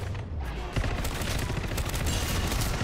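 FJX Horus submachine gun firing in Modern Warfare 3 Zombies, a dense, continuous burst of rapid shots over a busy, loud game soundscape with no pauses.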